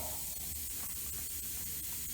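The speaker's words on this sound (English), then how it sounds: "spray the beads all the way around" Steady, hissing spray of soap onto tire beads from a nozzle during tire mounting, continuous and close, with faint short bursts running through it and no talking.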